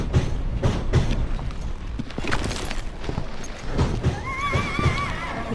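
Horse neighing and whinnying in the Call of Juarez Gunslinger video game, loud and close, with clip-clopping hooves and thumping game sounds mixed in, the whinny rising clearly near the end.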